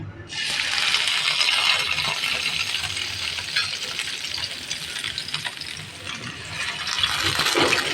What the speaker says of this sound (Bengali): এখন আবার কিছুটা ভেজে নিচ্ছি এই দেখো আবার কিছুটা বাটার দিয়েছি বাটারটা গলে গেছে